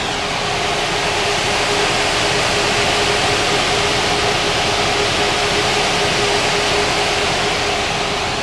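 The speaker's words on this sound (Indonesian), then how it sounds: "Nah, ini yang teman-teman denger ini suara AC." Air conditioning inside a Volvo B11R Euro 5 double-decker bus, a steady, even rush of blowing air with a faint constant hum underneath, filling the cabin with no letup.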